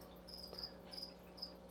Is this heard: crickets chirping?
yes